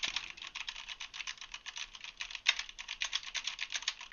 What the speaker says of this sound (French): le test du clavier mécanique avec le clavier Corsair K70, équipé de switch MX Red